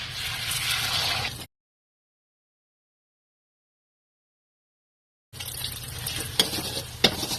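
An egg sizzles in a hot pan, a steady close crackle and hiss that cuts out abruptly and resumes, with a couple of sharp pops near the end.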